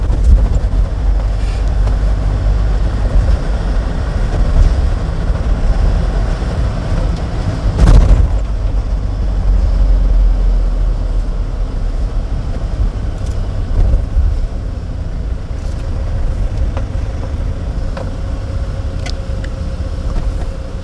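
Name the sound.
car engine running loudly during manual driving lesson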